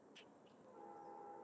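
A distant train heard outdoors at a park, a faint low rumble with a thin, sustained horn-like tone that swells gently in the background.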